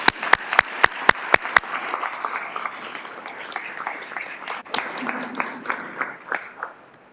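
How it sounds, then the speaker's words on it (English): Audience applause at a school district governing board meeting, opening with several sharp, loud individual claps, then settling into sustained, moderately dense clapping from the room that slowly thins toward the end. "Let's give her a round of applause."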